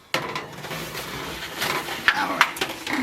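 A baking dish of neckbones, sweet potatoes and squash clatters as it is slid into the oven, with a burst of handling noise and a couple of bright metallic clinks near the end.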